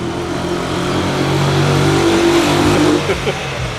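A car engine revs and rumbles close by, a steady loud drone of traffic on a narrow city street lined with buildings, with no talking.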